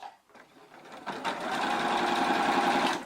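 Sewing machine stitching the side seams of a piece, starting after a brief quiet moment and then running in a steady, close, rapid mechanical whir until the end.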